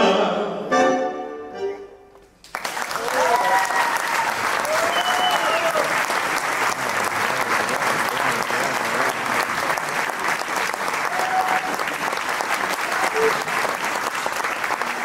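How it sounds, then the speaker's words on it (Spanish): Loud, sustained applause from a tango festival audience erupts after a few seconds of music and voice, then holds as a dense, even roar of clapping with a few voices calling out. "Fuerte voz de aplauso."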